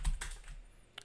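A few quick clicks on a computer keyboard as a shortcut is pressed, sharp close taps bunched at the start with one more near the end, no talking.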